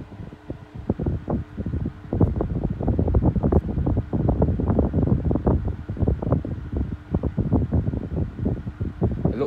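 An older Status 9 inch oscillating white desk fan slowly starting up, a close, buffeting rush of air with uneven rumbling thumps against the microphone, steady and fairly loud, and no one talking.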